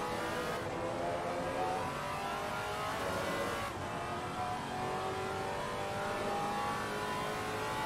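The engine of a Maserati MC GT4 racing in Assetto Corsa Competizione revs hard through gear changes at a hairpin, a loud, sustained, gritty roar shifting pitch with each upshift and downshift.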